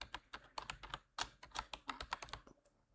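Quick, uneven clatter of keys on a computer keyboard, many light taps in short bursts, close and fairly quiet with no voice.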